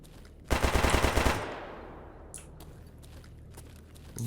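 A rapid burst of automatic gunfire in the shooter game Escape From Pripyat, close and loud for under a second, then trailing off into a long reverberant tail with a few faint clicks afterward.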